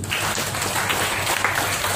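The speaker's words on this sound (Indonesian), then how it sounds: "Boleh beri tepuk tangan." An audience applauds steadily throughout, dense and even, as a crowd of many hands claps at a church service.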